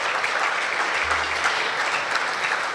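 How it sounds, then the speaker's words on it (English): A banquet audience at a sports club Hall of Fame dinner in Tampa Bay applauds itself, a dense, continuous wash of many hands clapping at moderate loudness throughout, with no distinct pauses. "I want you all to give yourself a nice round of applause tonight because you deserve it"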